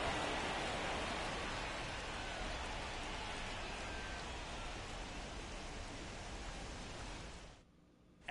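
Heavy rain pours steadily during a rain delay in the baseball video game MLB The Show 24, a dense continuous hiss that carries on for several seconds and then cuts off abruptly near the end.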